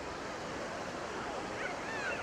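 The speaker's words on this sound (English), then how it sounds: "You can really hear the sea now." Sea waves washing steadily from the wake of a passing boat, heard on a coastal walk out toward the Fleetwood Wyre Light; a continuous close wash with gusts of wind noise, no voices.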